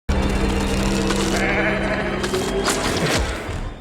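A sheep bleats in a sci-fi horror scene, a loud, drawn-out cry over a low droning score, followed by a few fainter, shorter bleats as the sound fades.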